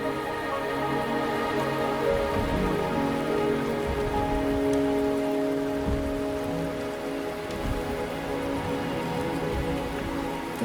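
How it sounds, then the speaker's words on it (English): Rain falling in the Wuthering Waves video game, a constant close patter of drops on surfaces over a soft sustained musical hum, no speech. "The rain is subsiding, and the sky will soon clear."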